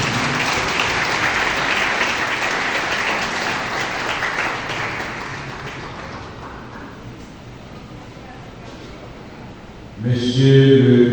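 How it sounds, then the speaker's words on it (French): A crowd at a graduation ceremony for a Bible study centre gives loud, sustained applause that gradually thins out, and a voice starts speaking near the end. "On peut continuer à les applaudir"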